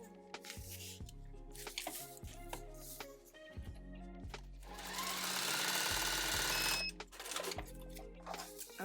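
A sewing machine stitches quilt block pieces close up in short rhythmic runs of rapid needle thumps, with pauses, fabric handling and a longer buzzing run in the middle.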